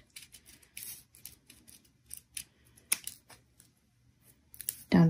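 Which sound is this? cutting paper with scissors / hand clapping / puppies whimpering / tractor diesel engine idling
cutting paper with scissors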